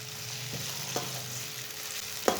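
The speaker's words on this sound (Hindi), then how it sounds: "सालन को 1 मिनट तक पका लेंगे" Leftover mixed-vegetable curry cooking in a pan, a soft steady sizzle with a few scraping stirs of a spoon, the last one sharper, no voices.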